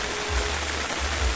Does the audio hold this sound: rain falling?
yes